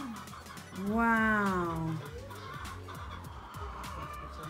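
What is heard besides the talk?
roosters and chickens clucking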